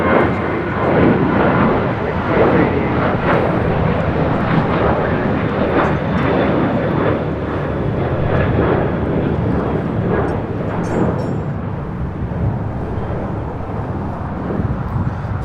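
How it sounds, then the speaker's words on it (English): A United Boeing 757 in Star Alliance livery lands on the north side at LAX, its engines a loud, sustained roar that fades slightly toward the end. "Have a United in the Star Alliance livery 757 landing on the north side"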